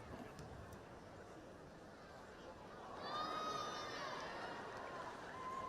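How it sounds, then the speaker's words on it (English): A basketball crowd at a preseason WNBL game between Southside Flyers and Perth Lynx lets out a swelling murmur of groans over steady arena hubbub, with squeaking sneakers and faint commentary underneath. "A few groans from the crowd"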